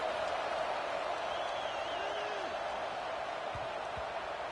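A big college football stadium crowd forms a constant broad roar, a steady wash of many voices with no sharp peaks, while a commentator talks over it.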